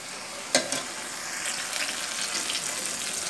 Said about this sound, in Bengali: আমি সব কিছু ভালোভাবে মিশিয়ে নিচ্ছি